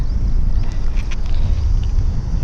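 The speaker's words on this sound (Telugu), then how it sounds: "గాలి ఎక్కువ తోలుతుంది." Strong wind buffeting the microphone during a bicycle ride along a straight road past farm fields, a loud continuous low roar that gusts throughout.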